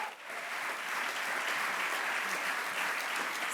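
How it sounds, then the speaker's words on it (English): A plenary audience at a CityLab morning session gives a big round of applause, a steady, even wash of many hands clapping at moderate loudness, heard at some distance. "Let's give them another big round of applause"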